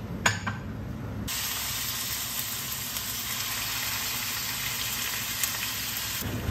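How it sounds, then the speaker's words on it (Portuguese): Steady, loud sizzling of chicken frying in a hot pan, a continuous hiss with a few sharp pops, starting abruptly and stopping near the end. "Coloquei aqui essa panela para esquentar. Vou fazer o frango aqui."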